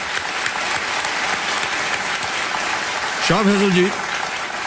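Studio audience applause on the Kaun Banega Crorepati set, a steady dense clapping throughout, with a host's voice speaking over it and a brief tonal sound near the end.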